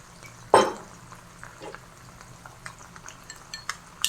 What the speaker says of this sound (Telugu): ఇలా ఉండలు లేకుండా మిక్స్ చేద్దాం